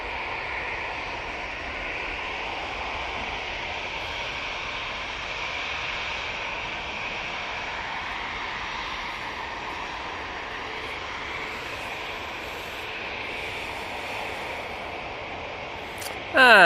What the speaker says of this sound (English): And that's departing 737 for Jet 2, it's off to Athens.